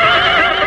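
A horse in an audio drama neighs loudly and close, one drawn-out whinny with wavering pitch that fills the moment alone, without talk over it.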